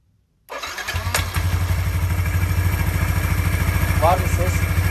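Yamaha NMAX scooter with a TDR 180 crankshaft cranking to life after a short silence, then settling into a steady close idle with light throttle blips; a faint voice briefly in the background.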